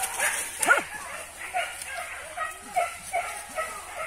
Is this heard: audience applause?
no